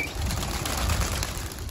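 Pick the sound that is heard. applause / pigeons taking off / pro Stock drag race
pigeons taking off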